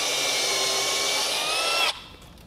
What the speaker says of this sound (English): I'm gonna use a step drill bit, and then we'll just slowly drill it out